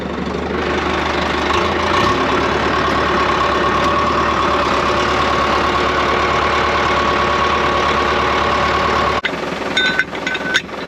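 A farm tractor hooked to a hay rake idles steadily at a low throbbing beat, close and continuous, with a brief shift and some clatter near the end.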